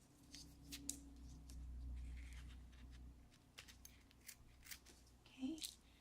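Quiet scissors snipping the string on a handmade birthday balloon card, several small crisp cuts over a low hum with light handling noise.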